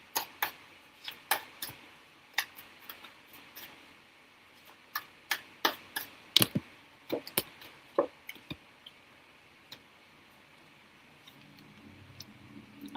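A timer ticks steadily, sharp clicks in an irregular-seeming rhythm, fairly close and moderately loud with no talk, fading out toward the end.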